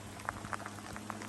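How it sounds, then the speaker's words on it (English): Steady rain falls along the Blue Ridge Parkway, a soft continuous patter with scattered distinct drops ticking on a nearby surface, fairly faint and without voices. "Steady rain now."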